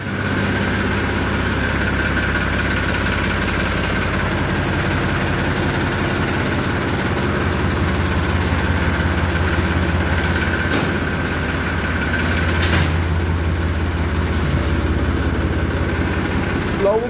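A tractor engine idles steadily with a low, chugging rumble throughout, loud and close, with no clear change in pace.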